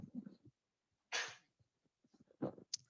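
A single sharp sneeze bursts out close by, preceded by a quick breath and followed by soft murmuring and breathing.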